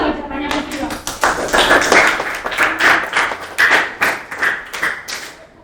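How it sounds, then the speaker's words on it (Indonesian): A classroom of students claps in a rapid, uneven patter of sharp hand slaps, with a voice speaking over the clapping. "Pokoknya intinya kita hari ini tepuk-tepuk tangan aja ya"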